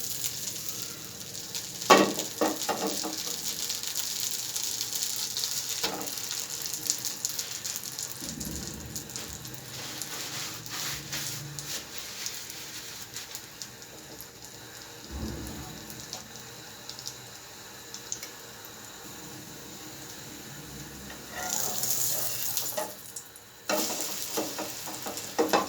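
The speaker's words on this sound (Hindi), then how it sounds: "नॉन स्टिकिंग में इसको फ्राई करेंगे तो बहुत आसानी से फ्राई हो जाएगा।" Bread soaked for French toast fries in a non-stick pan with a steady sizzle and crackle, marked by occasional scraping and stirring clatters over about twenty-five seconds.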